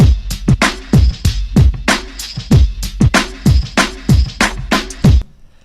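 A looping drum breakbeat, chopped and rearranged, with crisp kicks and snares that shift pattern near the end before stopping abruptly.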